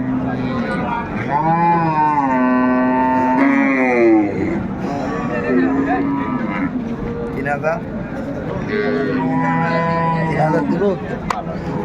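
Cows and calves low repeatedly at a busy Raniganj cattle market, long drawn-out moos rising and falling close by, with people talking and crowd noise throughout.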